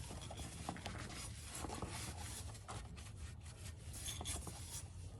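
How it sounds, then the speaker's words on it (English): Cloth rubbing and wiping around a Chevy Suburban engine to clean up spilled oil during an oil change, a steady close scrubbing rasp with no talking. "So just kind of wipe down all around where oil spilled."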